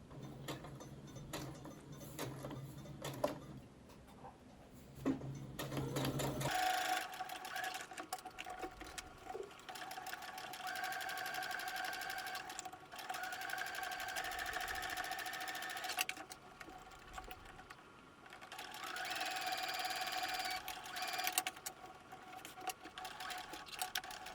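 A sewing machine stitches a canvas string pouch, backstitching at the start and end of each seam. It runs in long, steady, fairly quiet mechanical bursts with brief pauses between them.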